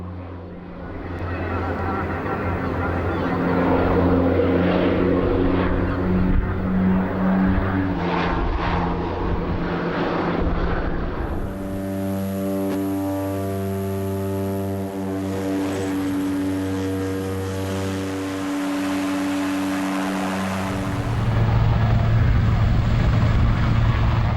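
A Bronco aircraft, formerly used by the Luftwaffe for target towing, flies at the Jersey airshow; its steady propeller drone holds loud and close throughout, rising in pitch midway as it passes.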